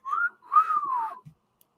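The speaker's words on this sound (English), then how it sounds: "You can't laugh and whistle at the same time." A person whistles a short, clear melodic phrase of two rising and falling notes, close and alone against silence.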